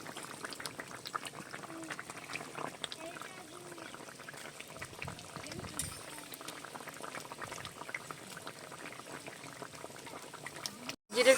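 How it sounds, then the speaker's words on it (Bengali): Bay leaves and cumin paste bubble gently in a pot with a soft, continuous low simmer, faint and close, ending in a brief clatter. "জিরেটা দিয়ে একটু ফুটিয়ে নিয়েছি।"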